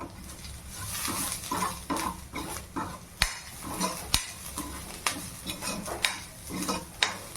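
Paneer bhurji sizzles in a pan while a spoon stirs and scrapes it, with a low frying hiss and several sharp clinks against the pan, close by and moderately quiet.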